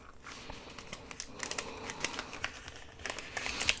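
A paper bag being folded by hand, giving scattered dry crinkles and soft paper crackles in quick irregular bursts, close and fairly quiet, with no talking.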